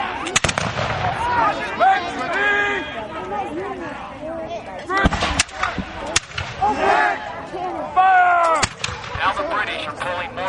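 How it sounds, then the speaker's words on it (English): Mortar fire at a Battle of Newport reenactment: several sharp, loud reports crack out at irregular intervals, some close together, under constant lively shouting and crowd chatter. "Now the British are pulling mortar fire in on the Americans."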